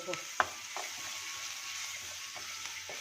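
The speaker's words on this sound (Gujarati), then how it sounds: "આપણા આદુ મરચાં ઉતળી ગયા છે" Ginger and green chili paste frying steadily in hot oil in a pan, a soft continuous sizzle with a few sharp clicks of a spoon against the pan, no voices.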